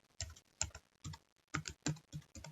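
Keystrokes tapped on a computer keyboard while setting up a SQL Server installation, arriving in short uneven bursts of clicks with brief pauses between, close and fairly quiet.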